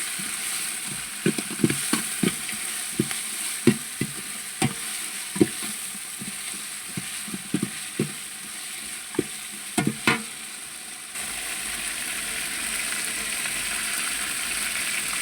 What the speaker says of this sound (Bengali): আদা রসুন আমি একটু তেলে ভাজবো, ভালো করে তেলে ভেজে।